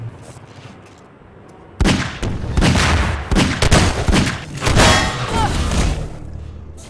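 Gunfire and thudding impacts in a Half-Life 2 Deathmatch duel, 2013 tournament match. Quiet ambience gives way at about two seconds to a loud, dense stretch of repeated shots and bursts that runs to the end.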